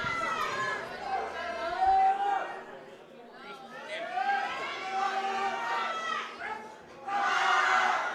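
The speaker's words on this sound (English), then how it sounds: "Tyler getting a ton of support from the crowd." Cheering and shouting from a high school crowd backing a lifter at a national powerlifting meet, voices rising and falling in waves with a louder burst at the end, mixed with chatter and calls.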